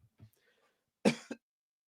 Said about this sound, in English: I'm gonna cough right now